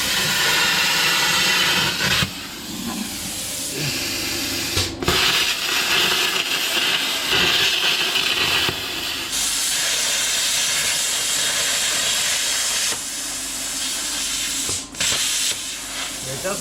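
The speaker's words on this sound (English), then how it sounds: "there's my cutter. That's it. 80 amps of pure fury." An 80 amp plasma cutter slicing through a Porsche car body gives a loud, continuous harsh hiss and crackle that runs almost unbroken, with a couple of brief stops.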